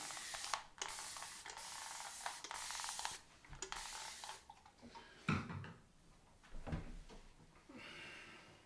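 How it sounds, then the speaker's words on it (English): A few short hissing bursts of a spray bottle misting water onto a face before shaving, followed by quieter handling noises and light clatter. "Here's my spray bottle. Add a bit of water to the subject."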